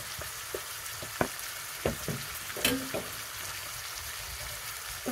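Eggs sizzling in a hot pan while mentaiko mayo pasta is cooked at home: a steady, quiet frying hiss broken by a few sharp pops and utensil taps.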